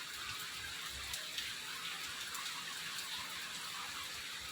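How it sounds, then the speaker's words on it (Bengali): Heavy midday rain pours steadily in a broad, dense hiss, constant and moderately loud with scattered drop spatters and no voices. "আমাদের এদিকে তো প্রচণ্ড বৃষ্টি হচ্ছে"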